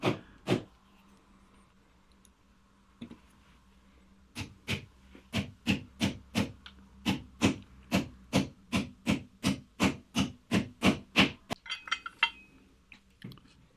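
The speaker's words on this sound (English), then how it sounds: "here I'm just pushing the Gripits into the plasterboard" Gripit plasterboard fixings being pushed into a hollow plasterboard wall, heard as a run of about twenty sharp, close clicks in quick, fairly even succession after a quiet start, with a soft rattle at the end and no talking.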